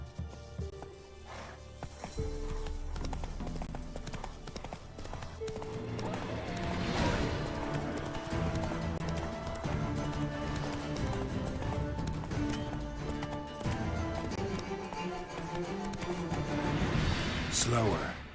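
A horse gallops in The Witcher 3 with steady, fast hoofbeats that run under game music and sound effects for the whole stretch, loud and continuous.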